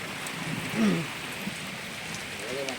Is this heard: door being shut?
no